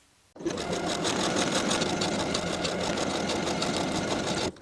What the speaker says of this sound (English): Now I'll sew my buttonholes in place.